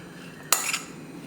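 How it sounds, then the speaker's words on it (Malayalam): A spoon briefly clinks and scrapes in a bowl while grated vegetables, spices, flour and salt are mixed for an Iftar snack; one short, fairly quiet burst against a faint background. "എല്ലാം മിക്സ് ചെയ്യുക"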